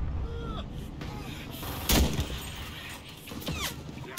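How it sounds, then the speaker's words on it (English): Shots and explosions crack through the Enlisted video game's Stalingrad street-battle fighting, one heavy blast standing out among scattered distant gunfire while a player talks. "Don't move when I'm shooting you."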